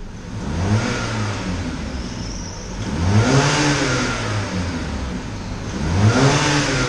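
Jeep Compass Limited 2.0 with its stock exhaust and the valve closed revs repeatedly from idle, three rising engine swells with a muted, mid-pitched drone, fairly close and with no voices.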